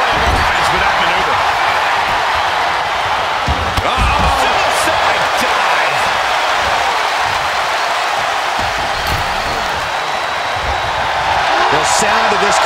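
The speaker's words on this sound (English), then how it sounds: "The sound of this crowd is deafening" A dense, continuous roar of an arena crowd in WWE 2K23, loud and unbroken throughout, with faint thuds and scattered voices beneath it.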